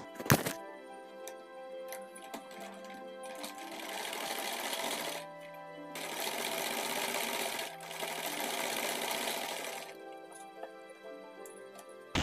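A sewing machine stitches a seam on a ladies' suit in two long continuous runs, a steady close whir with a brief pause between them and quieter handling sounds before and after.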